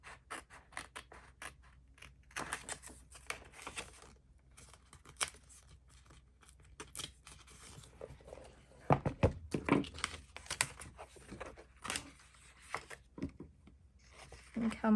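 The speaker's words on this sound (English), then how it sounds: "I'm just going to get my scissors." Scissors snipping paper for a creative journal, a series of quiet, close crisp cuts in irregular bursts with brief pauses, plus soft rustling and handling of paper and a voice talking faintly at points.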